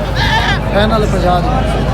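A black goat bleats at the Multan livestock market, with several wavering bleats close by over a busy background of market chatter and people talking.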